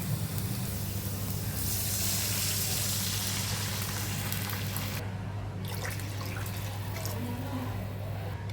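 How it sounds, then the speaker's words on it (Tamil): Water pours steadily and continuously into a pan for red rice flour dough, a close, even rushing splash that shifts slightly in tone partway through. "அதே கப்பால் 2 கப் அளவுக்கு தண்ணி ஊற்ற போகிறேன்."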